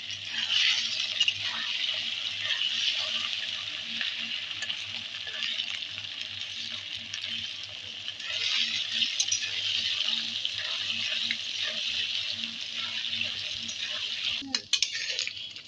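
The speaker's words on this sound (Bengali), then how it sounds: "পনিরটা হালকা করে ভেজে নিতে হবে বেশি ভাজলে এটা শক্ত হয়ে যাবে" Paneer pieces fry lightly in oil in a pan, giving a steady, close sizzle and crackle that runs throughout with brief spatula scrapes and clinks near the end.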